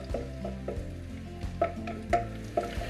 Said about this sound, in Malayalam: ഇത് ഒരു 30 സെക്കൻഡ് ഞാനൊന്ന് വഴറ്റിയെടുത്തിട്ടുണ്ട്